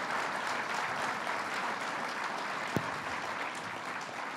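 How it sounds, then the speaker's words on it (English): Applause from an audience at a governor's budget event at Buffalo State fills the room, a steady wash of many hands clapping at moderate distance throughout, with one sharp louder clap standing out near the end. "Give him a round of applause."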